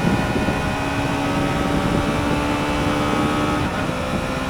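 A 2024 Triumph Daytona 660 motorcycle engine pulls steadily in third gear, a close, continuous droning tone mixed with rushing wind noise.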